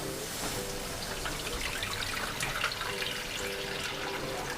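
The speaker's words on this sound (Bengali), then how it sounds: "এবার বয়েল করার জন্য জল দিয়ে দেব।" Tap water runs into a pot to boil pasta, a quiet steady splashing trickle with a faint resonant tone as the pot fills.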